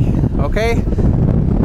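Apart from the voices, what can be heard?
strong wind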